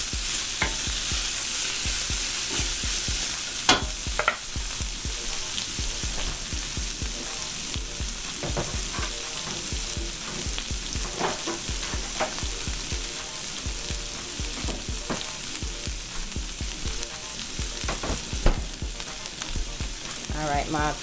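Asparagus fries in a pan on medium-high heat, giving a continuous sizzle broken by repeated scraping and clacking as the spears are stirred and moved around, close and fairly loud throughout.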